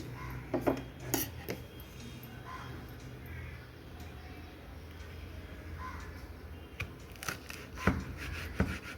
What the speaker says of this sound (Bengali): এবার চলুন একটা একটা করে আমি ডাঁটিগুলো কেটে নিই